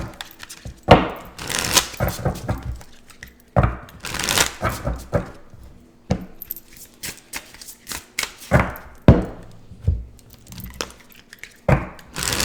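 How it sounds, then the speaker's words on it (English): Tarot cards being shuffled by hand in bursts of riffling and shuffling, with soft slaps and gaps between, close up and fairly loud. "So let's shuffle them all up and get the messages."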